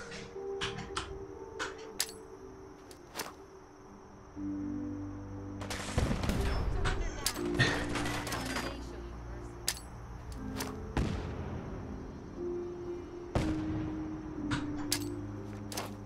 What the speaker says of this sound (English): I'm firing back.